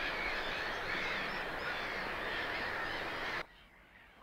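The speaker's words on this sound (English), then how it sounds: "the birds are bloody rampant tonight" A dense chorus of birds cawing in the evening near a parked camper conversion, loud and continuous, overlapping calls filling the air before cutting off abruptly near the end.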